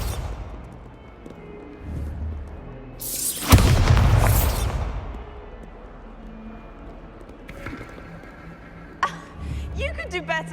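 A Bombarda spell blast in the Hogwarts Legacy video game, one loud booming burst that rolls off over a couple of seconds, set among quieter game ambience and scattered effects, with a voice calling out nearby.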